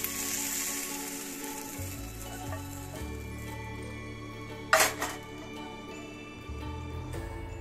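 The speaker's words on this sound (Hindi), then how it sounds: "अब पहले भिंडी को हल्का सा फ्राई कर लेंगे" Okra (bhindi) pieces fry in a pan for bhindi do pyaza with a steady, close, continuous sizzle, broken once by a brief metallic clink.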